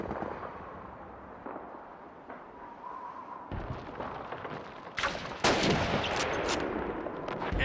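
Several sharp gunshots in Call of Duty 2 crack out in quick succession over a low rumbling background, growing louder and denser toward the end.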